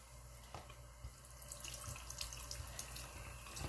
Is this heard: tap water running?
yes